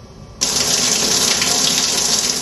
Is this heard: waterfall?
yes